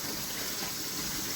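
Tap water gushing steadily into a sink being filled to rinse collard greens, a continuous close splashing rush with no talk.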